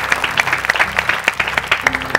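A crowd applauds at a military-style discipline training session, with steady, dense clapping from many hands throughout and no break.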